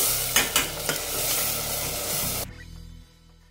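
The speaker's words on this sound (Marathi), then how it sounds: "आता आपण छान असे मिक्स करून घेऊया" Red chili powder, coriander powder, garam masala and salt are stirred in hot oil for a dhaba-style masoor dal, a loud steady sizzle with scraping strokes that cuts off abruptly, leaving faint low hum.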